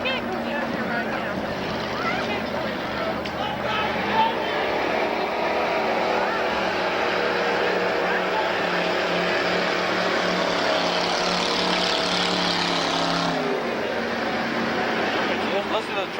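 A race car engine runs on the track at Manzanita Speedway during a practice night, a loud, sustained roar that holds steady and then tapers off near the end, with people talking over it.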